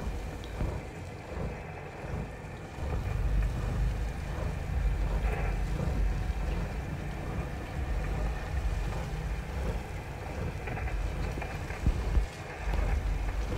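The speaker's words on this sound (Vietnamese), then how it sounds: "Chiếc 23m đang lại dắt lái đoàn ghe của lưới rút Phú Yên nè anh em." A fishing boat engine drones at night on the water near a 23-meter net-fishing vessel off Vietnam, a steady low rumble with wind noise and occasional splashes, no voices.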